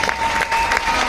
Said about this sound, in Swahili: Big round of applause. Naomba tumpigie makofi ya nguvu.